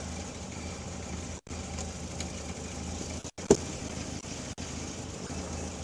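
A 1962 Triumph TR4 engine idles steadily at close range with the choke pulled, its even low rumble broken by a few brief dropouts and one short click.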